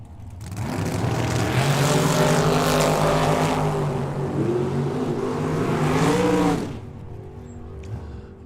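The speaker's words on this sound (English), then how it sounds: "Gen 2 Camaro." A second-generation Chevrolet Camaro race car roars at a drag race, its engine rising through loud, revving pitch sweeps before cutting off, leaving faint trackside ambience.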